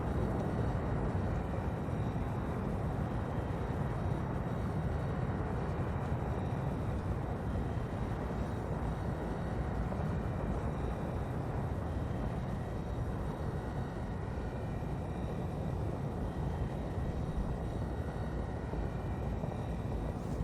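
A spaceship flying past the DSSA carrier in a video game, a continuous low rumbling roar that holds steady at an even level for about twenty seconds.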